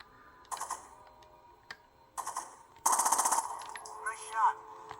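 Gunfire in the Rainbow Six Vegas 2 shooter game: sharp separate shots, a quick rapid burst, then a fading tail, close and distinct over quiet game ambience.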